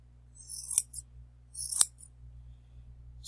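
Scissors snip a yarn pom pom for a hat twice, about a second apart, each cut a crisp, close metallic snap against a quiet room with a faint steady hum.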